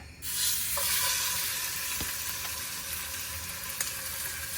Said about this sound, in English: Now we're gonna brown them. We got our heat dropped down to 3/4. You drop them in there.